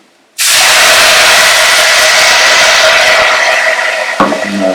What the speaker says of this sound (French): versez votre vin blanc afin de déglacer